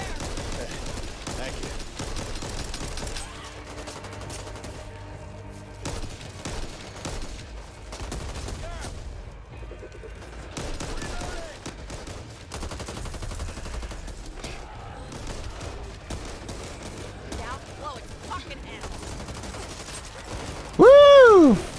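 Rapid gunfire in the zombie shooter Back 4 Blood, dense bursts of automatic fire and single shots through most of the stretch, loud and close, with game effects and occasional player voices under it.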